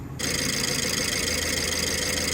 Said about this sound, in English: we'll run the engine and see what happens